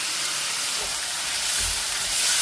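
Soy sauce hitting a hot pan of garlic green bean stir fry, a loud steady hiss and sizzle of bubbling liquid that swells slightly toward the end.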